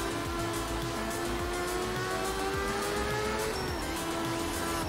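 A rally car slides across gravel in Art of Rally, its engine droning steadily with a sustained tone and the loose grit hissing continuously beneath it, steady and moderately loud with no voices.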